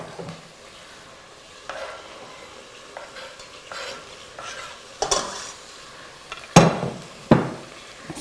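Garlic goes into a pan of browning meat for sweet jollof rice. It gives a low, steady sizzle with a few sharp utensil knocks and scrapes against the pan, and no one talks.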